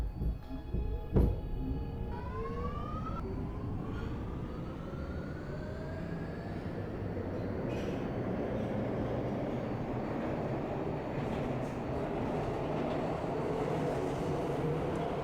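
R211A subway train on the D line to Coney Island in the OpenBVE simulator pulling away, with a rising electric motor whine that climbs in pitch over a steady rumbling roll growing louder, after a brief door chime at the start.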